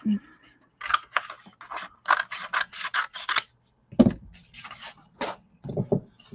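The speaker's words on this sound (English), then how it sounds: "Let's use our little stamp scissors." Small decorative stamp scissors snip through paper for a mixed-media journal, giving a run of short, crisp, close cuts in quick bursts, with someone talking between them.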